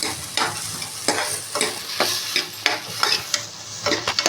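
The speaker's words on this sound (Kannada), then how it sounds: "ಬೇಳೆನ ಚೆನ್ನಾಗಿ ಫ್ರೈ ಮಾಡಬೇಕು" Lentils (dal) fry in a pan for avarekalu sambar, with a soft sizzle under repeated scraping stirs of a spoon, roughly twice a second, heard up close.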